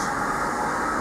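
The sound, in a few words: outdoor heat pump running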